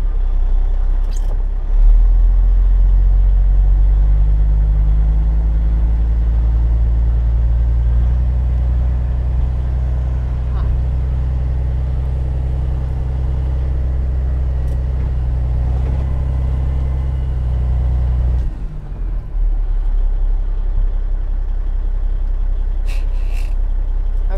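A dump truck's engine drones low and steady for about twenty seconds as it strains for traction on a snowy shoulder, then the drone drops off sharply near the end.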